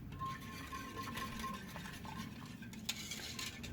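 Sour cream being mixed by hand into cold Romanian chicken soup, heard as a soft, continuous stirring and faint clinks of utensil against a pot, quiet and close with no voices.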